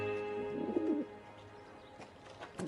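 A pigeon or dove coos briefly in a Game of Thrones scene, one soft warbling call near the start over a steady low background hum, then quieter rustling and faint noise.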